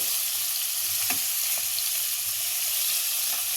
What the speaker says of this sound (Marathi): अशा पद्धतीने मी पीसेस फ्राय करून घेतले